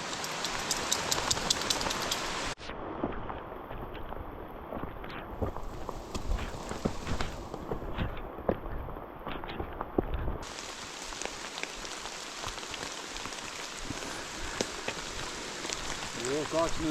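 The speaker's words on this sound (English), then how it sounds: "There's something about being out in the forest like this when it's raining." Rain falling in a forest along the Loyalsock Link Trail, a steady hiss of drops with close, irregular taps and patters, continuous throughout with gear rustling near the microphone.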